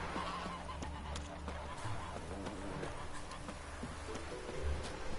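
Goose honking in The Witcher 3: Wild Hunt, a few short honks over a busy game soundscape with faint hoof-like clopping at a steady moderate level.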